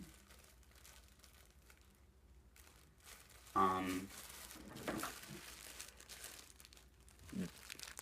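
Plastic crinkles in a brief dense burst, then fainter rustling and a later short crackle, close by over a low background hum.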